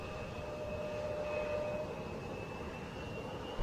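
Steady roar of a jet airplane engine during takeoff from runway 16 right, fairly distant and constant with a faint whine, no voices.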